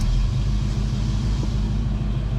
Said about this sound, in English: Very stoked to see this car is finally idling like it should be.